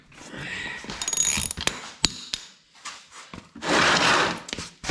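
Ratchet and pulley-like mechanical clicks and bursts while ATV wheel nuts are tightened after the jack is dropped, close and intermittent, with sharp knocks and a louder sustained grinding stretch near the end.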